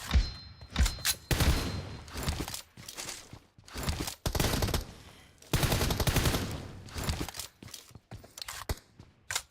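Bursts of video-game gunfire, loud and close, in several rapid automatic volleys separated by short pauses, with sharp individual cracks between them.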